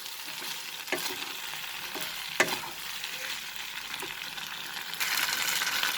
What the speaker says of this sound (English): And now we will add the cauliflower florets into that fried one. We'll mix it